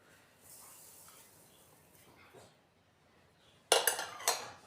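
Split spice seeds are dropped into a mixer jar, a short clattering, rattling pour heard close up after a stretch of faint handling noise.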